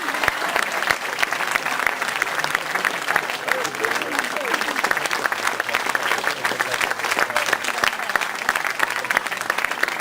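An audience at a theatre performance in Rocca San Felice claps steadily, dense and sustained applause filling the room from start to finish, with a voice faintly audible beneath it.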